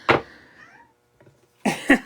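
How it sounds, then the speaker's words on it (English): Two one-year-old kittens meow for attention indoors, one near and loud at the start, then a fainter trailing call and a pair of strong meows near the end, with no talk over them. "you can hear my kittens in the background"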